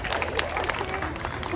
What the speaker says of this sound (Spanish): Un fuerte aplauso para los jóvenes que están aquí al frente